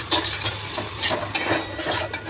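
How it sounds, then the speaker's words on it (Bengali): A spoon scrapes and swirls through ingredients in a bowl while making steamed palm-fruit pitha, soft continuous stirring with light clinks, close and fairly loud. "একটু নাড়াচাড়া করে নিয়ে ময়দাটার মধ্যে ঢেলে দেবো"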